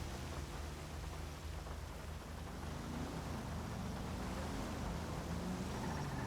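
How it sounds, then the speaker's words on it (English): Light rain falls steadily in the game GTA Online, a soft even hiss of drizzle with a low rumble beneath, constant and unbroken throughout, with no voices. "it's transitioned into a lighter rain"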